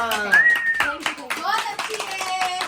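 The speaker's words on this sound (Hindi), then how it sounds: "तालियां।" Hands clap in a short burst of sharp slaps at a family home while children and adults keep talking loudly over them.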